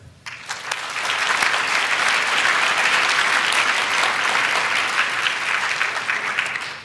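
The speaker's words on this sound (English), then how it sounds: "I just want a round of applause for the community" Sustained applause from a symposium audience, loud and dense throughout after a brief quiet start, with no speech over it.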